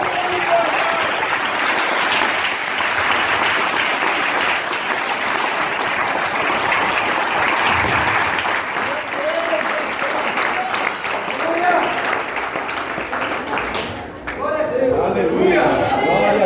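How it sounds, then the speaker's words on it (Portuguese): A church congregation applauds at a Pentecostal evening service in Osasco, steady dense clapping filling the hall for about fourteen seconds before briefly dipping and swelling again, with voices and cheers mixed into the crowd. "Dá um aplauso para Jesus, bem gostoso"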